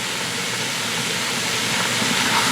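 Chopped onion sautés in an Instant Pot RIO Wide, giving a steady, even sizzling hiss heard close up and alone.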